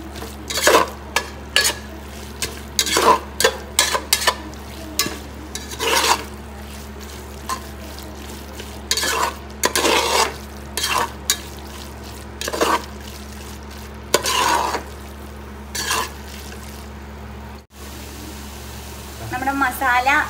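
Masala and onions cook in a pan for chicken biryani, stirred in repeated bursts of scraping and clatter over a low frying sizzle, with brief pauses between strokes.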